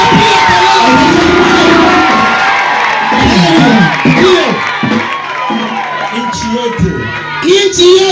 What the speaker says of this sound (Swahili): Mpigie Mungu kelele za shangwe